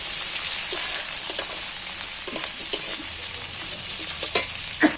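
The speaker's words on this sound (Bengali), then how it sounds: "কাটা পেঁয়াজগুলো তেলের মধ্যে তুলে দিন এইবার একটু নাড়াচাড়া করে নেব" Chopped onions fry in hot oil with a dense, steady hiss, punctuated by a few soft knocks and scrapes as they are stirred; no one speaks.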